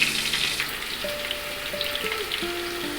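Five-spice seeds, a chili and a bay leaf crackle and sizzle in hot oil for a chutney, a steady bright frying hiss with small pops, heard close and alone.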